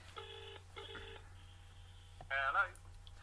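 Telephone tones play in two steady bursts followed by a short buzzing ring, near and clear over a low background hum, then a voice briefly answers.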